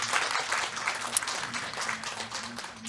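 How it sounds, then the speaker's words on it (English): Audience applause at a Nordic Council of Ministers conversation event in Lithuania, a steady wash of clapping from many hands at moderate distance, with faint voices underneath. "a round of applause will follow as well"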